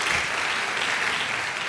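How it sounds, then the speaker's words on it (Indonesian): A church congregation claps together during a sermon, dense steady applause filling the space at close range without any speech over it. "Bapak Ibu mari kita berikan tepuk tangan dulu yang dahsyat bagi Tuhan kita."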